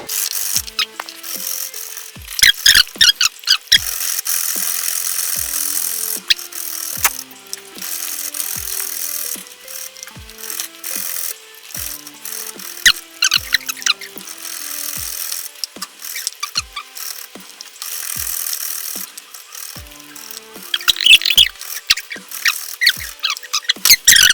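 Coconut grated by hand on the large side of a grater, a long run of rhythmic rasping strokes with sharp clicks, close and fairly loud, with busier bursts near the start and end.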